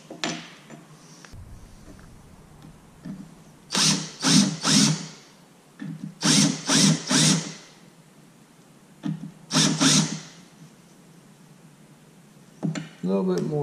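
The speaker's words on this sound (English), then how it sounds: "we're going to go to the back side with this countersink bit and just put a little bit of an edge around there" A countersink bit bevels the edge of a hole on the back side of a spur button, in three clusters of short grinding bursts in quick groups of three, with quieter gaps between them.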